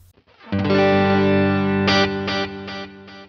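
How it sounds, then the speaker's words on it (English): Electric guitar run through the reverb of a Boss GX-100 processor: a sustained, shimmering chord blooms and rings out, followed by a few rhythmic strummed chord stabs over the lingering wash, played alone without talking. "that is a great sounding reverb"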